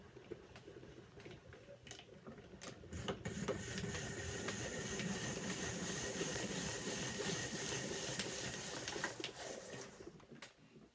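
Pampered Chef apple peeler corer slicer cranked by hand, a steady mechanical whir and clatter building after a few opening clicks and running continuously before easing off near the end.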